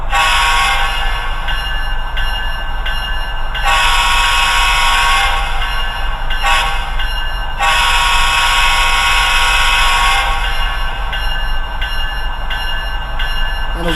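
An HO scale model CSX ET44AH locomotive sounds its horn in several loud, sustained blasts separated by short gaps, over a constant electronic hum, with no talking.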